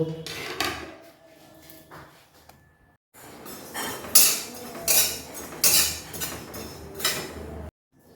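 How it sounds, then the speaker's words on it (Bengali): Coriander and cumin being dry-roasted in a hot kadai, heard as intermittent metallic clatter and scraping bursts from stirring, separated by short quiet gaps. "ধনে আর জিরেটাকে একটু শুকনো খোলায় ভেজে গুঁড়ো করে নেব"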